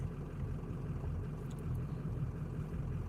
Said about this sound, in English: Oh, the truck was bouncing.